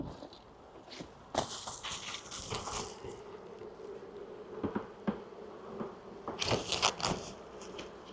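Bees buzzing up inside a hive, a steady low drone under louder nearby bursts of handling noise, rustles and knocks.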